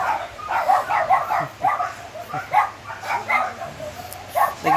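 Several dogs barking early in the morning, a run of repeated yips and barks at varied distances, fairly loud and irregular, with a faint voice in the background.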